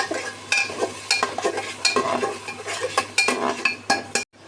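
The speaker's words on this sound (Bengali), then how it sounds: "মশলাগুলো খুব ভালোভাবে কষিয়ে নিয়েছি" Spice masala for nihari is stirred and fried in a pressure cooker, metal utensil scraping and clinking against the pot in repeated strokes over a steady low sizzle, close and fairly loud, ending abruptly.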